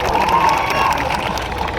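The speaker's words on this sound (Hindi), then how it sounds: "और जोरदार खुद के लिए तालियां बजाओ।" A large protest rally crowd in Khargone cheers and claps loudly and continuously, a dense steady roar of voices and applause with some shouting mixed in.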